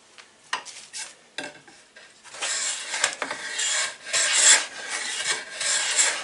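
A Veritas block plane shaving thin curls from a piece of poplar wood, several quick rasping strokes growing into longer, louder continuous scraping passes, close and alone.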